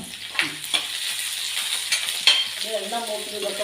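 Cumin seeds sizzle and crackle in hot oil close up, with a few clinks of stirring and a faint voice near the end.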